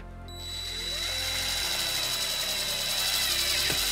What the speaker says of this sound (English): we're going to use the provided self-tapping screw and a quarter inch socket